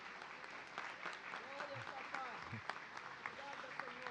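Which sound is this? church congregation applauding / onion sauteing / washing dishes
church congregation applauding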